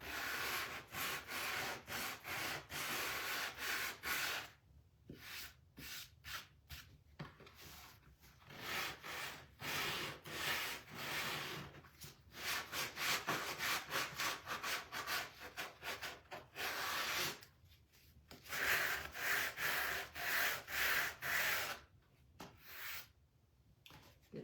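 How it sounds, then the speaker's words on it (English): Wooden piece being sanded back by hand, with close, steady rasping strokes in bursts separated by short pauses; sawdust builds up as the abrasive scrapes repeatedly across the grain. "Sand this back a little bit."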